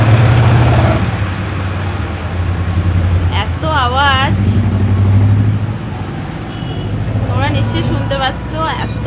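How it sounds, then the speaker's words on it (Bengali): Loud passing road traffic with a heavy, continuous engine rumble that swells and fades as vehicles go by, with warbling tonal sounds such as horns or voices rising over it now and then. "গাড়ি যাচ্ছে এত আওয়াজ হচ্ছে"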